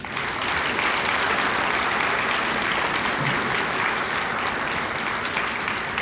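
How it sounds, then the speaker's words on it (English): Sustained, loud applause from a large audience at a high school senior breakfast, even and continuous for several seconds. "Audience, please join us now in offering these students a well-deserved round of applause."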